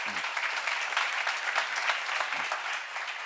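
An audience at a church seminar applauds, giving steady, lively clapping at a moderate distance that continues evenly throughout, with a couple of brief low voice sounds underneath.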